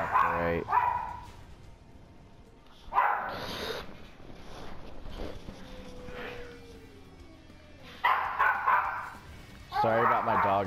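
A dog barks in the background in several short bursts spread across the stretch, loud and distinct, with quieter gaps and a tonal sweep between them; no clear talking over it.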